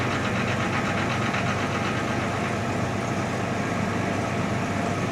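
A 1987 Jaguar engine idles steadily and close, a continuous broadband rumble with a faint knocking texture that holds even throughout with no talk over it.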